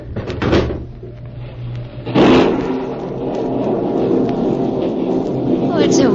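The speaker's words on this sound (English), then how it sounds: "John, open the window." A window being opened as a radio drama sound effect during a storm, with a thump and rattle followed by a rushing, rumbling storm wash, under and between voices.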